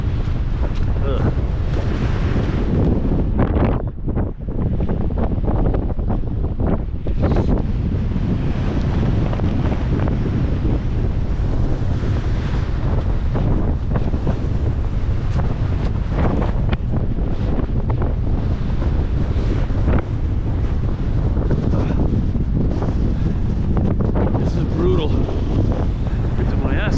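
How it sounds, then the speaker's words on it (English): Strong, cold coastal wind around Cockersand Abbey in the UK buffets the microphone, a continuous loud roar of rumbling gusts that barely lets up. "Gotta be 30-mile-an-hour winds."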